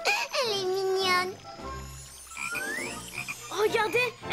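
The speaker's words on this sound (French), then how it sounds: "Oh, une grenouille." A cartoon frog in a strange pond croaks loudly in several rubbery, bending calls over a low musical drone, and a childlike cartoon voice chatters between them.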